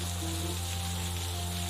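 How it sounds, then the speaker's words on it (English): Rain falls steadily in the video game Necrobarista, a constant, even hiss with a faint low hum beneath it and no pauses. "Just try and enjoy the rain."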